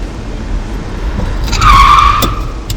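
A Ford F-100 pickup truck brakes hard, its wheels locking and the tires letting out a loud, rising skid squeal that lasts about a second over low road rumble, with no talking.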